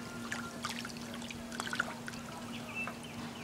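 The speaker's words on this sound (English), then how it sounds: "Get that water in the barrel." Water is poured into the barrel of a Smith & Wesson M4505 airsoft pistol, making a faint, irregular trickle and splashing with small drips over a steady low hum.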